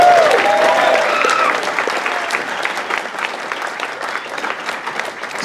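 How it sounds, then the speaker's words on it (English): An audience applauds the volunteers at a talk, a dense steady clapping that starts full and eases slightly, with a brief voice fragment at the very start. "Round of applause for the volunteers."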